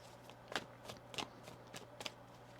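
A deck of tarot cards is shuffled close by in a series of soft, quick riffling flutters and taps, about five brief bursts in a quiet room.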